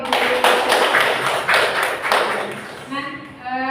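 Applause in an online teachers' forum, a few scattered claps and taps coming through a call, moderately loud and uneven, with chiming notification tones toward the end.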